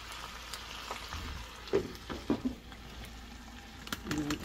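Pork asado meat stews and sizzles softly in a pan, making a low, steady frying hiss with a few small pops and stirring clinks. It sits fairly faint, close by, with no voices.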